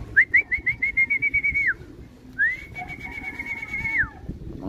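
Racing pigeons arriving at a loft after an 87 km race in Pagbilao, Quezon, with two long, clear, whistle-like tones, the first warbling and pulsed, the second steadier, over a low rumble of background noise.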